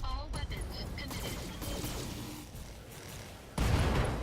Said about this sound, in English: Oh, he just dies to ammo explosions.